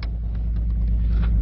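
A V6 Ford Mustang fitted with an idle chop mod idles in a brief, low, steady rumble, close and alone with no talk.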